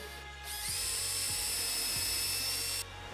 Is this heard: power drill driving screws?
yes